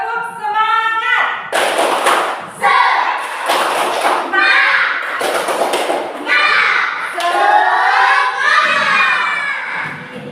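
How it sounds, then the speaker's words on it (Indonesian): A class of third-grade elementary schoolchildren standing and chanting loudly together while beating out heavy rhythmic claps in bursts for the 'tepuk semangat' spirit clap, their shouted voices filling the room throughout. "kita tepuk semangat."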